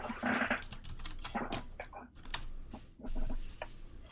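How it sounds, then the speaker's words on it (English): Computer keyboard being typed on at close range, with irregular bursts of clicks and short pauses, plus a few other small noises mixed in. "Town guard is typing."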